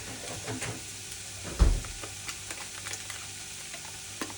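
Butter sizzling in a frying pan, a steady soft crackle with one louder thump near the start, fairly quiet with no talk.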